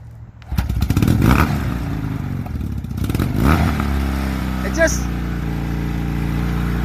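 A Yamaha XS650 motorcycle engine, running on choke just after starting, catches with a close, loud burst of revs and then settles into a steady, throbbing idle.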